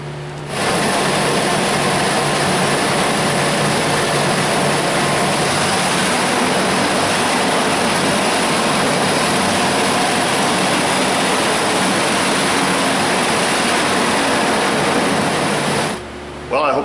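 Chevy 5.7 350 V8 in a Tahoe or Silverado idling steadily after a water pump replacement, a loud continuous broadband rumble with whirring accessory noise that holds evenly for about fifteen seconds before cutting off.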